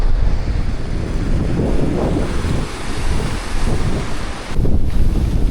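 Strong wind buffets the microphone in loud gusts while surf rumbles underneath, a blustery seaside roar with no voices, on the coast at Kep, Cambodia.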